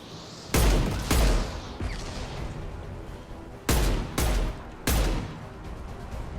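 Gunfire in the Mass Effect 2 video game: five loud, sharp blasts come in two clusters, each with a booming low end, separated by quieter combat ambience.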